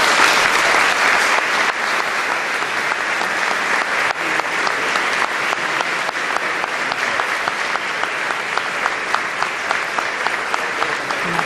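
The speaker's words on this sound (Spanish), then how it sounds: "Aplausos para el presidente del Congreso, para José Bono" Sustained, loud audience applause fills a formal Constitution Day reception at the Spanish Congress, steady dense clapping continuing throughout without a break.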